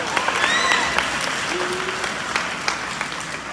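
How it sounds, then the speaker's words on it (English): An audience gives a round of applause at an anti-bullying event, a fairly loud, dense clatter of clapping with a few sharper individual claps, a brief whistle-like tone and some faint crowd noise underneath. "give yourself a hand clap"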